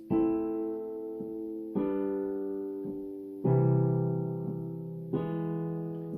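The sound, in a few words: piano chord, notes played together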